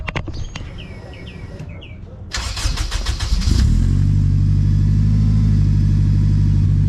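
An AWD car engine with a new twin-muffler exhaust cranks and fires up, then settles into a loud, deep, rumbling idle; faint bird chirps are audible beforehand.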